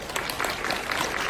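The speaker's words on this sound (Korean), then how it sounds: "큰 박수 부탁드립니다" Brief applause from a seminar audience at a public security conference as a speaker is welcomed, an even wash of clapping lasting barely over a second.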